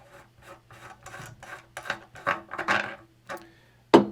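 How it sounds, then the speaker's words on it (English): Screws turned out of a guitar neck with a screwdriver, a series of short scraping rubs and ticks in quick succession, close and fairly quiet, ending with a sharp click. "I would first loosen all of the screws, and then you can take each screw out one at a time."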